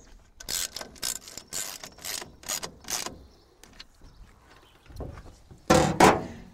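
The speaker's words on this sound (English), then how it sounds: "Slightly tighten down your nuts onto the rail." A hand ratchet tightening nuts onto the rail of a Truxedo Deuce tonneau cover on a Ford F150 pickup, giving quick bursts of close clicking with short pauses between them and a louder final burst.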